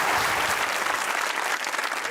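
A studio audience at a televised interview show breaks into loud, dense applause that fills the space evenly from start to finish with no talk over it.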